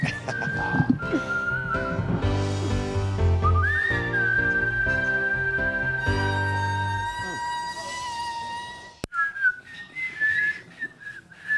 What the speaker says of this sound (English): It's not for everyone to whistle.